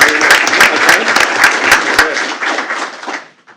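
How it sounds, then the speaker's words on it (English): A crowd claps steadily in an indoor hall at a school board meeting, loud and continuous, with a few sharper claps standing out before the applause fades away. "Let's welcome her with a round of applause as well."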